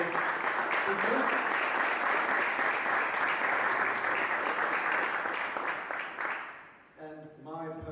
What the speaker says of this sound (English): I'd like to ask for a big round of applause for our fabulous speakers.